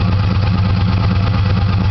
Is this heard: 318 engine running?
yes